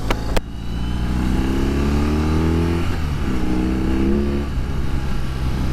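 A 2021 BMW R 18 motorcycle engine pulls hard in the low rev range, a loud, steady, deep rumble with rising harmonics across two acceleration pulls, preceded by a brief click.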